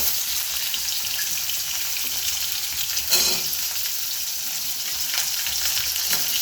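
Sliced potatoes and onions fry in oil with cumin seeds, a continuous close sizzle with one brief louder clatter midway as the pan is stirred.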